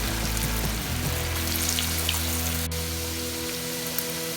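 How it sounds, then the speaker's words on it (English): Potato sticks deep-fry in hot oil, a dense crackling hiss like rain, with a low hum underneath and a few sharp pops. "Now add another remaining potatoes into for the deep fry."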